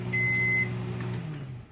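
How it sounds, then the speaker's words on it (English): A microwave oven cooking ears of sweet corn hums steadily, and its timer gives a single clear beep near the start, with no one talking. "the timer's about to beep here"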